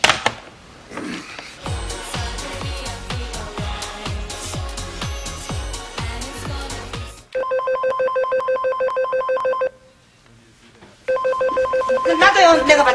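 A telephone rings in repeated electronic trilling bursts, loud and near, following a stretch of speech and rhythmic knocking. There is a short pause before the ringing resumes.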